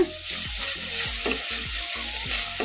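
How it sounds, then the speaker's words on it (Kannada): Spinach leaves stir-fried in a pan over a medium flame with green chillies, giving a steady loud sizzle with repeated rhythmic scraping strokes of a spatula, and no voices. "ಇವನ್ನೆಲ್ಲ ಮೀಡಿಯಂ ಫ್ಲೇಮಲ್ಲೇ ಫ್ರೈ ಮಾಡ್ಕೋಬೇಕು ಇದನ್ನು ಈ ಥರ ಕಲಿಸ್ಕೊಂತಾನೆ ಫ್ರೈ ಮಾಡ್ಕೋಬೇಕು"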